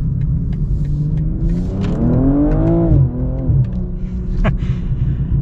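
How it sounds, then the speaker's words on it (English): A 2022 BMW M240i xDrive accelerates hard, its engine note sweeping up through revs before quick downshifts, with a sharp exhaust pop near the end over a steady road rumble. "Got little pops out of the back end too."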